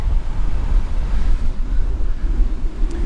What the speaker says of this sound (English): before I go out in this crazy wind.